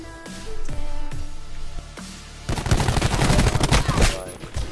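Rapid bursts of automatic gunfire from a multiplayer shooter video game, loud and dense in the second half after a few sparser shots, with game sounds throughout.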